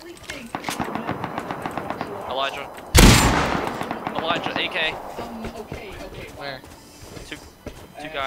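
Automatic AK rifle fire rattles in a battle royale video game, a rapid regular burst of shots broken by one loud blast near the middle, with more scattered shots afterward, while players talk over it.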